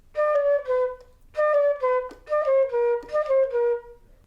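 Solo flute playing a melody, a short phrase of clear sustained notes in small groups with brief pauses between them, close and alone without talk.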